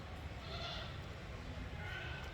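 Goats bleat on a goat farm in Surat, faint calls rising over a low murmur of farmyard background. The sounds are distant and quiet, with soft human voices mixed in.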